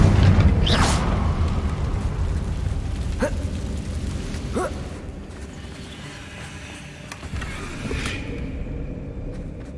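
Fiery Confringo spell blasts from the Hogwarts Legacy video game, a loud opening burst followed by several sharp whooshing impacts over a constant low rumble that slowly fades.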